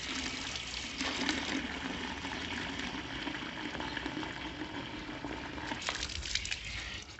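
Steady rush of water rinsing a Honda Hornet motorcycle part, a continuous broadband splashing stream that holds at the same level throughout with brief surges near the end.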